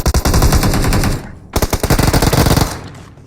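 Rapid automatic gunfire from a weapon in a video game, two loud bursts of fast repeated shots separated by a brief pause, close and sharp with no talking.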